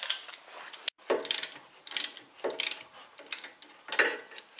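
A ratchet works on a 30-year-old suspension bolt during a car camber adjustment, giving short bursts of metallic clicking strokes separated by brief pauses, close up and moderately loud.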